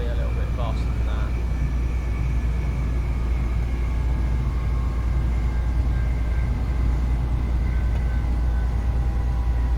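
A Class 185 diesel multiple unit in Train Simulator Classic rolls toward a station as braking begins, a steady loud low rumble of running gear with faint tonal whine layered above, continuous and unbroken throughout.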